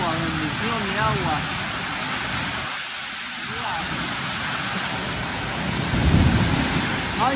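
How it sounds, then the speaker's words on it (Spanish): A heavy rainstorm with wind and thunder batters a house in Colón, a dense continuous roar of rain with low rumbling swells, while people talk faintly underneath. "Está lloviendo con aire"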